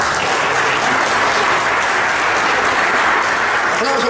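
A church congregation applauds in a thick, continuous roar of clapping that stays even and full throughout the short stretch.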